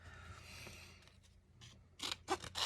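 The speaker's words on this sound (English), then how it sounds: "First off, we're just going to cut these apart" Scissors snip apart cast resin miniature portraits up close, a few quiet crisp cuts near the end after soft rustling, with no talk.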